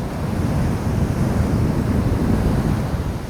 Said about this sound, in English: Woo, those waves!